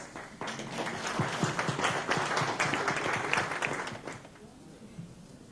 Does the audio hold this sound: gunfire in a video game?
no